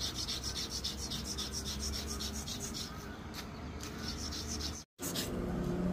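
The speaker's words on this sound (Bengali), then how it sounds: "এই টুকরাটা ওয়ালের সাথে ঘষতে হবে" A piece of brick is rubbed back and forth against a wall, giving a continuous close gritty rasping scrape with one brief dropout near the end and no clear talk.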